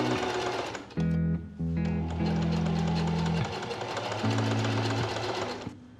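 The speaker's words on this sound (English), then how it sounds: "I'm just going to be doing a zigzag stitch the whole way around and on the back" A sewing machine runs a zigzag stitch on a babydoll dress, loud and close, in three fast rattling bursts separated by brief pauses.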